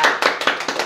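A few quick, close hand claps, about five in under a second, from an audience at a Mrs. India pageant event.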